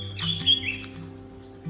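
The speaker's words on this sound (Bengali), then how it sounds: "সাথে পাখিদের আওয়াজ।" A few short, high bird chirps in quick succession in a misty pine forest at Kaffergaon, fairly faint and brief over a quiet low hum, with no talk.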